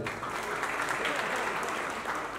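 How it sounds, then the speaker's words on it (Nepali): An audience at a film event applauds. Dense, continuous clapping fills the short stretch at an even, loud level, with no voices standing out. "जोरदार ताली।"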